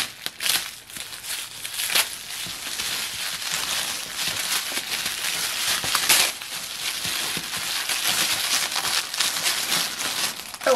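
Tissue paper wrapped around small My Little Pony hair accessories crinkles and rustles continuously up close, with a few louder crumpling bursts and no talking.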